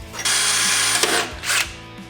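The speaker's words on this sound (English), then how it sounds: "we're gonna have to Dremel out the inside of this hole" A Dremel rotary tool grinds out the inside of a hole in a plate on a turbo EFI 660 lawnmower build, a high whine in two close bursts with a brief dip between, nearby and loud.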